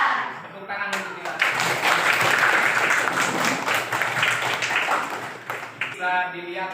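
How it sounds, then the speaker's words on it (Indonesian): Children clapping together in a school classroom, the applause swelling quickly into a dense burst before thinning out, with a teacher's voice audible before and after it. "Tepuk tangan untuk kita."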